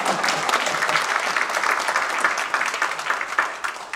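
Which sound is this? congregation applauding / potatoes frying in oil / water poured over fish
congregation applauding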